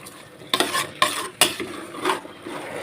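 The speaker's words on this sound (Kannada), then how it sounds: "ಈಗ ಮಸಾಲೆ ಎಲ್ಲ ಸ್ವಲ್ಪ ಮಿಕ್ಸ್ ಆಗಬೇಕು ಅದಕ್ಕೆ ಟರ್ನ್ ಮಾಡ್ತಾ ಇದ್ದೀನಿ" Spoon scraping and turning green pulao rice with masala in a pan, a few quick clattering strokes with soft sizzling between them, close and alone.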